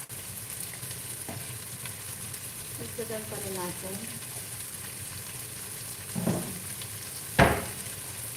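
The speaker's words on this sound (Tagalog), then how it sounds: "Prito-prito lang natin siya bago natin ilagay yung ating sauce." Marinated chicken wings fry in a pan with a steady low sizzle and crackle, joined by occasional stirring clatters and a sharp scrape near the end, while a person speaks briefly over the cooking.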